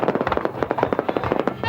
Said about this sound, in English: There's been some fantastic fireworks shows